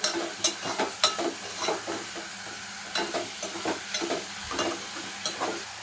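A spoon stirs dried fish and raw mango curry frying in a pan, giving irregular scraping strokes over a steady sizzle, with no talking.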